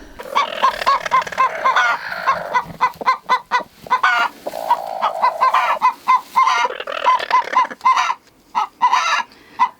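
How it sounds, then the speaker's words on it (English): Several homestead hens cluck and bawk close by in a busy, overlapping stream of short repeated calls, with brief pauses between bursts and no talking. "A bunch of my chickens are already wanting to go broody on me"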